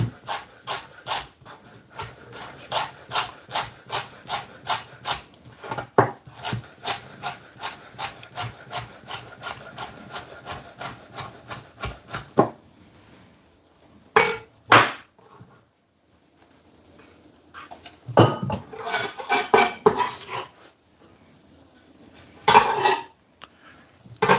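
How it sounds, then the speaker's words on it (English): Knife chopping fresh herbs on a board for fried dumplings, a fast even run of crisp taps, then scattered slower cuts and a few louder knocks near the end. "Next up, I'm gonna cut my herbs up."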